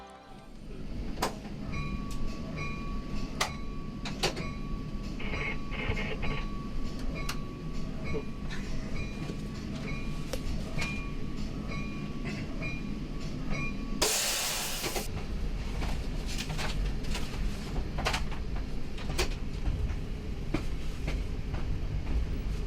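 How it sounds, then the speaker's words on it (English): A Metra Milwaukee District commuter train pulls off a siding onto the main line, heard from inside the cab car. It makes a steady rumbling roar with periodic sharp rail clicks, a sustained horn-like tone and a sudden loud burst partway through. "Leaving the station, we pull off of the siding and onto the main line."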